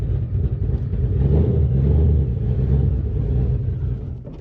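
Turbocharged Ford 3V engine idling warm in a car, a steady deep low rumble with a slight swell in the middle, heard close and loud with no voices.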